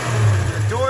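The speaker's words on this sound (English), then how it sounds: "Rev the engine." A 1964 Dodge Dart with a swapped 5.9 Magnum engine revs, a loud, close, deep engine rumble that swells briefly, with a voice briefly heard near the end.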